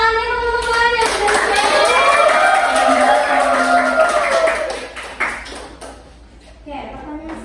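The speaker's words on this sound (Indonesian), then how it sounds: "Oke, boleh tepuk tangannya teman-teman yang sudah" Classmates in an elementary school science microteaching lesson clap together, a steady patter of many hands rising quickly and fading out after a few seconds, with a voice and classroom chatter around it.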